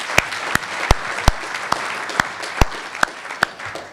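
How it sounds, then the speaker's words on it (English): Clapping at a university graduation ceremony in honour of the parents and friends, heard as about ten sharp, evenly spaced claps in a steady rhythm, fairly close and clear over a quiet background. "Let's have another round of applause for the parents and friends."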